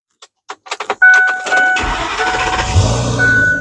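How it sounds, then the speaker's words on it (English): A 2008 Ford F-450 bucket truck with a V10 gasoline engine cranks in a few quick starter clicks, then catches and settles into a loud, close, steady idle. "It has a V10 engine, automatic transmission. I'm going to fire it up for you here."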